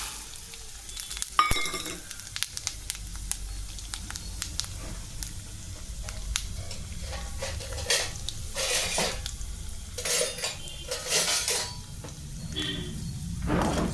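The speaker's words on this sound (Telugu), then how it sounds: "రెండు బూర్లు మూకుళ్ళు పెట్టుకున్నా వేయించుకోవడానికి ఫస్ట్ అండి కొబ్బరి పొడికి వేస్తున్నానండి" Grated coconut frying in two deep pans, with a steady crackling sizzle and repeated scraping and clattering of stirring spoons against the metal throughout.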